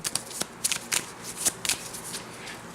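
Playing cards from the board game Welcome To are shuffled by hand in a series of crisp, riffling bursts at close range, with short pauses between them and no voice.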